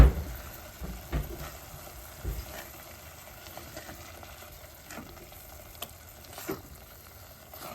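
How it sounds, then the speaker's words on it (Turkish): Sweet pepper paste and a spoonful of flour stirred in a frying pan, a faint soft sizzle with a few light scrapes and taps of the spoon, no talking. "Bir tatlı biber salçası koydum. Üzerine de bir yemek kaşığı un ilave edip güzelce karıştırıyorum."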